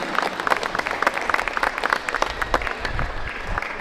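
Audience applause at a school inauguration for the Tecnológico Nacional de México in Tlahuitoltepec Mixe: steady, dense clapping from a crowd, fairly loud and continuous for the whole stretch.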